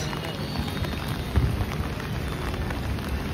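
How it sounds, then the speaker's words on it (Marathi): Heavy rain hisses steadily outdoors, with a low rumble and faint voices in the background. "आता बाहेर पडलाय, फुल पाऊस आहे."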